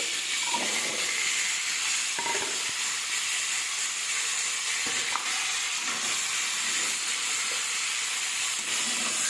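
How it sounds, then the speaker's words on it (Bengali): Ingredients for ripe hog plum chutney stirred in a hot pan, a loud steady sizzle broken by intermittent scraping strokes of the spoon, no speech. "সব কিছু দিয়ে নেড়ে নেবো ভালো করে।"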